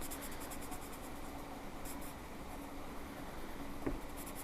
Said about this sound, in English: color it in as dark as you can with a pencil